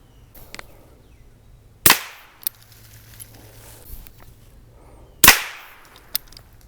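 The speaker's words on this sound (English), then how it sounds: "And now the titanium suppressor." .22 rifle fired through a dirty titanium suppressor: two sharp, muffled cracks about three seconds apart, each trailing off quickly, with small clicks and handling noises between.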